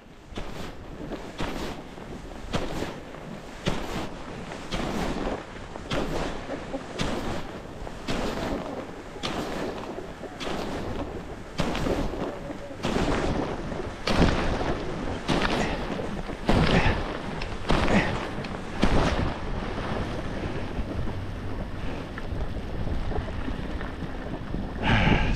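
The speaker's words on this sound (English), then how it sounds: "So windy today. It's too windy." Strong gusting wind roars across the microphone while skiing down a run at Brighton Ski Resort in a blizzard, a loud continuous rush broken by rhythmic bursts throughout.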